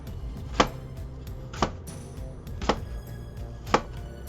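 A kitchen knife trims an apple on a cutting board, producing four sharp, evenly spaced chopping knocks over a low background hum, close and clear with no talking.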